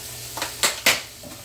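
Eggs being beaten by hand with a whisk or fork in a bowl, a few quick scraping, clinking strokes close up, three distinct sharp strokes in quick succession.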